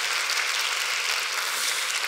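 An audience claps at a talk, a steady wash of applause from many hands, even and moderately loud, with no voices over it.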